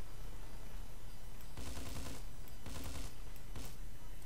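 Gunfire from a weapon in the Hitman Absolution video game rings out as three short bursts of rapid shots over a constant noisy background, moderately loud, with faint talk underneath.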